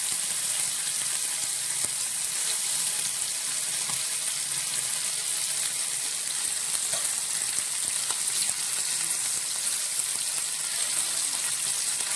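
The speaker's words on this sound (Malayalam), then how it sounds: "നമ്മൾ പെരട്ടി വെച്ചിരിക്കുന്ന മീൻ മീൻ ഓരോന്നായിട്ട് നമുക്ക് ഇട്ട് വറുത്തെടുക്കാം" Masala-marinated fish pieces fry in a pan with curry leaves, giving a steady, dense sizzle that holds evenly throughout without any talking.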